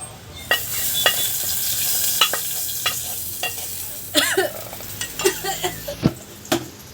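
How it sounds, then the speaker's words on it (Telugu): A tempering is stirred into a pot of sambar: a spoon scrapes and clinks against the vessel in uneven strokes over a soft sizzling hiss, close by with no talking. "ఆల్రెడీ ఇప్పుడు మా తాలింపు వేసుకుంది సాంబార్లో కలిపేసాం"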